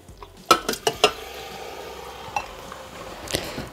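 Baby octopus tipped into a Thermomix bowl: a quick run of wet thuds and clinks as the pieces drop in, followed by a faint sizzle and a few light metallic taps near the end.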